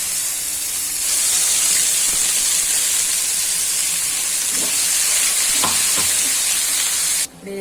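Gravy for Bhavnagari gathiya curry goes into hot oil seasoned with asafoetida and curry leaves. A continuous bright sizzle rises after the first second, with a few faint stirring knocks, then drops off abruptly just before the end.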